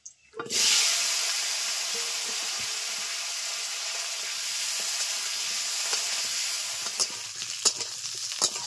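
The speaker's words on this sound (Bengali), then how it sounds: "আলুগুলো ভেজে নেব।" Potatoes hit hot oil in a pan, and a loud sizzle bursts in after a brief silence, then holds as a steady close frying hiss with occasional utensil taps near the end.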